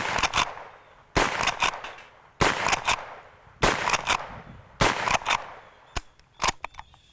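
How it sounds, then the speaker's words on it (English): A Rossi Model 92 .357 lever-action rifle fired outdoors, five sharp evenly spaced gunshots about a second apart, each followed by a short echoing tail and lever clatter, then a final fainter shot. "I'm shooting the rest of these off"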